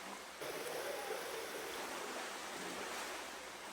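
Large storm-driven ocean waves pound seawalls along Portugal's coast, making a steady, dense roar of surf and spray that holds evenly throughout with no voices.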